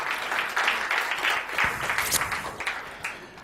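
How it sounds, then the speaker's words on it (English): Audience applause in an indoor talk setting, a steady wash of clapping at moderate level, continuous for a few seconds with slight swells and no voices on top. "So you should give yourself all an applause for just being here."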